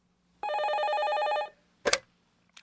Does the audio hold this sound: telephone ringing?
yes